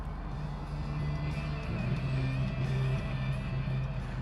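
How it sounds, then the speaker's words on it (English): A 1989 Pontiac Trans Am GTA out on a test drive, a steady low engine drone heard from inside the car at moderate level, with a slight shift in tone partway through and no talking. "Let's set our 89 TA down on the ground. We'll take it out for a test drive."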